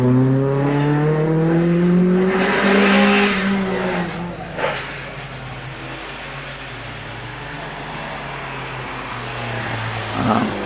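A Peugeot 205 rally car climbing Prescott hillclimb at a 2024 rally event, its engine loud and close as it revs hard through the bends, then fading into the distance as it climbs away.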